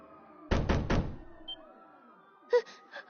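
A door in the Ys X Nordics video game is knocked on three times in quick succession, followed by a pause and a second, weaker burst of rattling knocks as it fails to open. The sounds are close and sharp.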